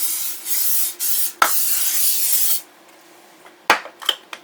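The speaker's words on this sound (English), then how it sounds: "I'm going to go ahead and spray my bottom of my casserole dish" Close, hissing bursts of cooking spray from an aerosol can onto the bottom of a casserole dish, two long sprays and a few shorter puffs, followed by light clinks and rubbing.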